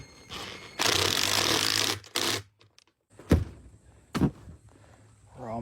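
A bolt is hand-threaded while the nut is held by fingers during pontoon boat seat reupholstery, giving bursts of metallic rattling and scraping with a few sharp clunks and thuds, close by, with quiet gaps between.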